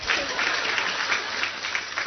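An audience at a lecture applauds together, a dense, even wash of hand claps sustained at a fairly loud level, with a voice briefly heard over it.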